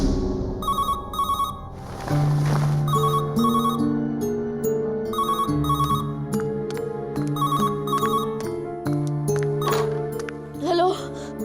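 A phone ringtone chimes in repeated electronic bursts, mixed with a busy background of voices, clatter and other sounds around it.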